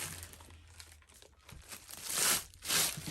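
Plastic laminate pulled off a roll and cut to size, giving close crinkling and tearing rustles that build into two louder crackling bursts near the end.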